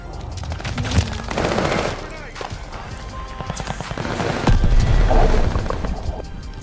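Gunfire in Call of Duty Vanguard, a busy multiplayer fight with bursts of automatic rifle fire and scattered booms rising and falling over several seconds, mixed with in-game chatter.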